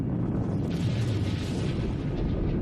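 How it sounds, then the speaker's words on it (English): The Challenger space shuttle explosion, heard as a continuous deep, roaring rumble that stays loud and steady throughout. "The explosion blasts the shuttle free"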